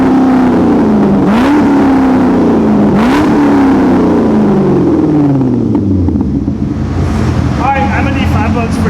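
A Nissan 370Z Nismo with a Billy Boat Bullet exhaust blips its engine twice in sharp revs, then lets the note fall back to a rumbling idle, close and loud, with faint voices nearby.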